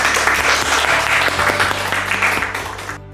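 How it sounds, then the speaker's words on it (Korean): Applause from an audience at a Catholic parish gathering, a dense continuous clatter of many hands, loud and close, running about three seconds before cutting off abruptly. "박수 한번 드릴까요?"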